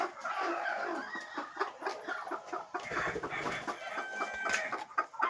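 Free-range desi chickens clucking in a coop, a busy flock of close, overlapping clucks and soft calls in an irregular rhythm with no talk.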